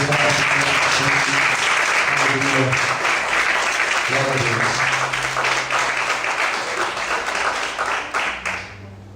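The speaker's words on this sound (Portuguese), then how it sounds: "Você pode desocupar sua mão e aplaudir o Senhor" Congregation applauding the Lord during a church service, a steady wash of clapping that carries on for several seconds before thinning out, with a preacher's voice speaking over it and music playing underneath.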